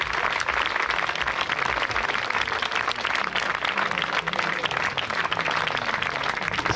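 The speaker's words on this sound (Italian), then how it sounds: "Fategli un applauso così vengono avanti." Steady, dense audience applause fills an outdoor concert for the feast of Saints Peter and Paul in Bernezzo, a sustained crackle of many hands clapping at moderate level with no break.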